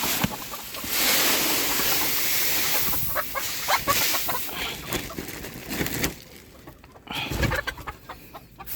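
Chickens cluck and call repeatedly in a coop as bedding is spread, with scattered rustling and scraping noises throughout and a brief quieter stretch near the end.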